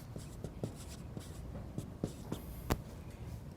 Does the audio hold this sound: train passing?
no